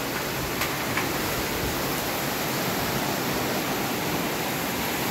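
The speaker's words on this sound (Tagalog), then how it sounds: "sobrang malakas ang ulan" Heavy rain pours steadily in a Philippine outdoor setting, a dense, even hiss that fills the whole clip without pause, loud and close with no voices over it.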